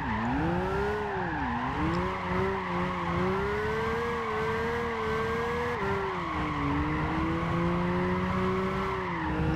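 A BMW M3 Coupe drifting in Gran Turismo 5, its tires squealing in a long continuous skid over the engine's steady drone, pitch bending up and down as the slide changes, loud and close with no talk.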